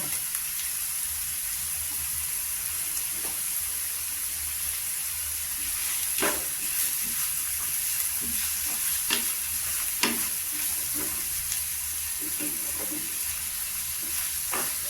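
Moringa pasta stirred and sautéing in a pan, a steady sizzle with scraping strokes of a spoon and occasional clinks, fairly close and continuous with no talking.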